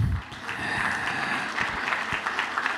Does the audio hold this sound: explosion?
no